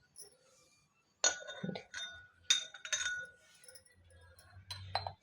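A spoon clinks against a drinking glass while measuring out a half spoonful of weight-loss powder, several short bright taps in bursts, close and moderately loud, with a faint low hum underneath.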